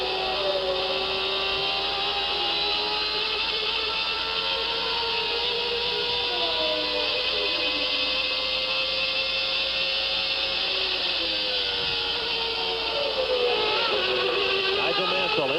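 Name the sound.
onboard Formula 1 car engine, 1990 Mexican Grand Prix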